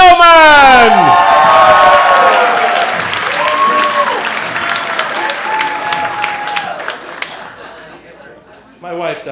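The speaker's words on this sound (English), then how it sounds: "How about a big round of applause for Ron Fellman?" A comedy club crowd cheers and applauds for comedian Ron Fellman, loud whoops and shouts over vigorous clapping that gradually fades, with voices calling out through it.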